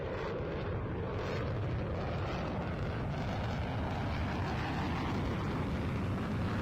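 Jet engines roar in a flight simulator game as military jets, Lightnings and a Harrier, pull up from vertical performance at an airshow; a dense, steady broadband rumble holds throughout with no voices.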